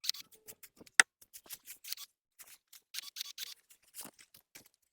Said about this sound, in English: This is a really cool trimmer.